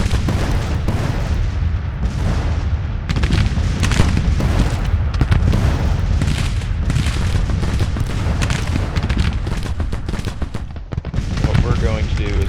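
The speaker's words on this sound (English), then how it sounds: "that artillery unit over here that's pounding the crap out of Jones's battery over here" Artillery booms and rifle fire pound away continuously on a Civil War battlefield in Grand Tactician: The Civil War, dense and loud with overlapping blasts.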